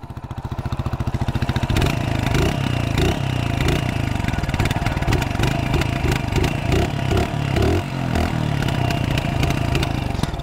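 A Mutt GT SR 250 motorcycle with an air-cooled engine and short low-mounted exhaust runs loud and close, its thumping single-cylinder beat picking up as the revs rise, then holding a steady, slightly uneven idle.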